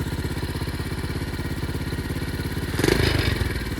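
A pit bike engine runs close by with a steady, rapid chugging pulse, then swells briefly louder near the end as it revs before settling back. No voices are heard.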